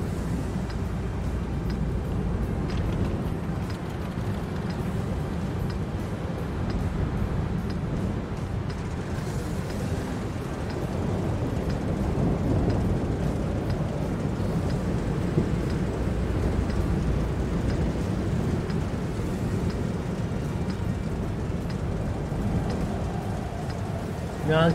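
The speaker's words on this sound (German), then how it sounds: "Gewitter." Thunderstorm during Storm Sabine, with steady rain hissing on surfaces and low rumbles of thunder rolling underneath, continuous and fairly loud with some talk in the background.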